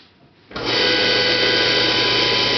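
A waste motor oil centrifuge motor switched on by plugging it in: quiet at first, then a sudden start into a loud, steady electric whine and hum that continues without a break.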